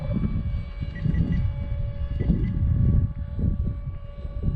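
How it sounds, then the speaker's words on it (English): Gusty outdoor wind buffets the microphone with uneven low rumbling surges, mixed with a faint steady whine of a small electric model wing flying overhead. "It is a little gusty out here."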